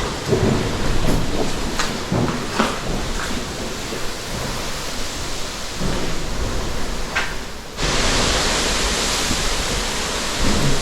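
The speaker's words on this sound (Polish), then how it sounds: "Już burza się zerwała konkretna." Heavy thunderstorm with steady rain and rumbling thunder, a dense continuous downpour with sharp cracks and a sudden louder surge of rain near the end, no talk.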